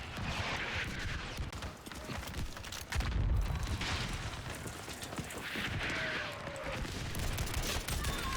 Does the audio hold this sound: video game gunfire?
yes